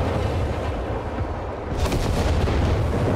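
Artillery bombardment in the strategy game Company of Heroes 3: loud, dense rumbling booms roll continuously, with a sharper burst of blasts about halfway through, no voices.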